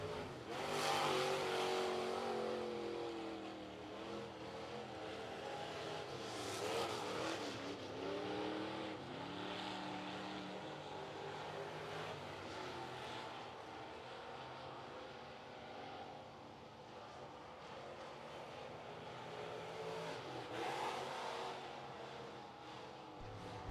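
Renegade Sportsman race cars qualifying at Cherokee Speedway produce a loud, continuous engine roar that rises and falls as cars accelerate and pass through the laps.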